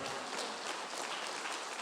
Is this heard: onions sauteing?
no